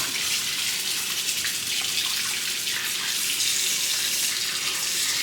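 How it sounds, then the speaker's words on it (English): Cold tap water runs steadily from a faucet into a sink, rinsing a piece of corned beef, a constant close gushing splash with no break for the whole stretch. "let's get this rinsed. I'm going to use cold water because I don't want to start cooking the meat yet."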